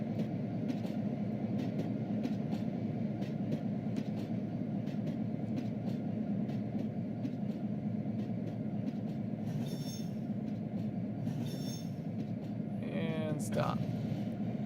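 A train in the Trainz 12 simulator rolls along street-running track with a steady low rumble and rhythmic wheel clatter, ending in squealing wheel screeches near the end.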